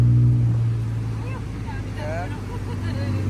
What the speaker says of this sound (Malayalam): ഓട്ടോന്റെ സൈലൻസർ വരെ നല്ല അടിപൊളി സൗണ്ട് ഇട്ടാ